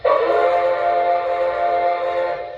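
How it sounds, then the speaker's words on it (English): A model diesel locomotive from the NWCR Century Series sounds its loud, low-toned horn in one sustained blast of steady chords that holds for a couple of seconds, with no voices over it. "that really loud whistle with the low tone"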